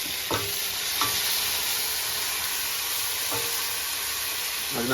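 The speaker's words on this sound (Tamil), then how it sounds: "எவ்வளோ நேரம் இது வதங்கிச்சுன்னா ஒரு 1/4 ஹவர்ல சூப்பராக ரெடி ஆகிடும் நம்மளோட கிரேவி" Gravy sautéing in a pan gives a steady, close sizzle and hiss throughout, with a few brief stirring clinks and scrapes spaced across it; no one speaks.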